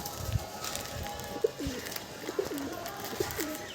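Domestic pigeons in a loft cooing softly, with three or four low rolling coos spread across a steady background hum and faint scattered chirps, no talking.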